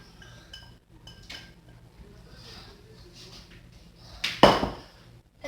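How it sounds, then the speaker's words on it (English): A spoon stirs grated cheese melting in a pot, with soft scraping and light metallic clinks, building to a louder clatter near the end. "And now stir the cheese and let it melt inside"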